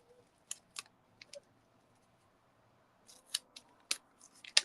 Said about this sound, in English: And it's going to make my scissors sticky.